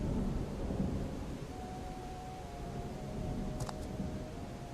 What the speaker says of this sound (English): it adds a good effect of like the storm is on its way